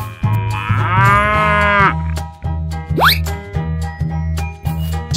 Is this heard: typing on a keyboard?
no